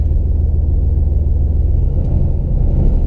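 A fourth-generation turbocharged Chevrolet Camaro sits on the transbrake before a launch, its engine a loud, steady low rumble up close with slight wavering in pitch and no voices.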